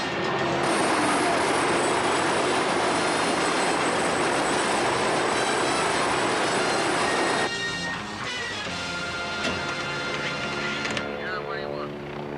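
A naval helicopter flies nearby, its loud, steady rotor and engine roar holding for several seconds before dropping to a thinner whining drone, with voices talking over it.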